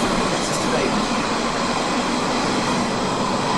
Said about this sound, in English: I think I saw the train go by